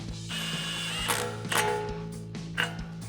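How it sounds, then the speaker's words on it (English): An impact wrench with a 21mm socket tightens a tie rod nut during a 3-inch Rough Country suspension lift install on a RAM 1500. Three short, sharp rattling bursts rise over a steady mechanical hum. "to tighten this down, we're going to be using a 21mm socket and an impact."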